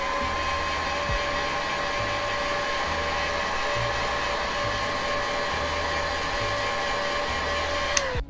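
Heat gun shrinking heat shrink tubing over an antenna wire joint, a steady loud fan-and-blower roar with a constant tonal whine that runs unbroken and cuts off at the very end.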